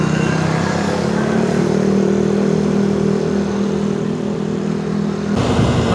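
A motorcycle engine rumbles steadily and close by while the bike is ridden, a low droning note that holds throughout before shifting abruptly near the end; no one speaks.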